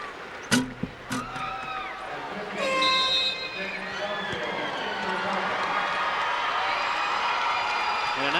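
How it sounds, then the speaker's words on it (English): Crowd applause and cheering swell at a 2003 IHSA boys Class A state semifinal basketball game as Cardinals players leave the floor, a steady roar in a gym under a commentator's voice, after a few sharp thuds. "a nice round of applause for the 5 on the floor now for the Cardinals, who are coming off"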